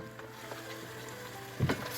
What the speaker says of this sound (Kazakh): Енді етімізді 5 минут қауырамыз.